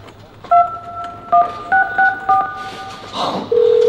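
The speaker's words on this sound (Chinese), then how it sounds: "我要跟他打个电话。" A telephone number is dialed on a keypad as six or seven crisp, evenly spaced dual-tone beeps, followed by a brief rustle and then a steady ringback tone, with faint voices underneath.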